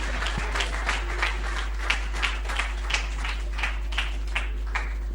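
Steady, evenly spaced hand clapping from what seems a small group or one person, moderately close, over a constant low electrical hum, with no cheering.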